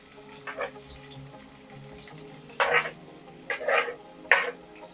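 Finely chopped onion and green chili sautéed on medium heat in a pan: a low steady sizzle broken by four short bursts of stirring and scraping, close and moderately quiet with no voices.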